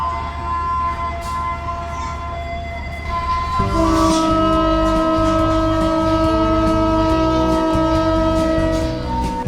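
Putri Deli passenger train pulling out of Kisaran station, a steady loud rumble of the locomotive and wagons with a sustained horn tone that shifts pitch partway through, heard close by without talk.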